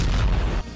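A bomb dropped by a drone detonates on a Russian armoured vehicle, a single dense, boomy blast with heavy low rumble lasting most of a second before cutting off abruptly.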